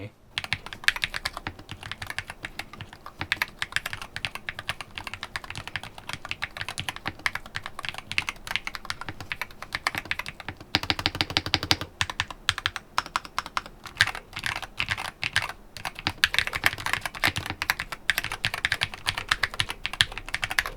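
Rapid, continuous typing on a Sikakeyb HM80 magnetic-switch mechanical keyboard, with dense clacky keystrokes close up and a brief burst of faster key presses midway.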